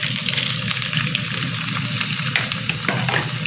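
Chopped tomatoes hit a pan of frying garlic in an Egyptian home kitchen, giving a steady, close, loud sizzle with faint stirring clinks and no talk.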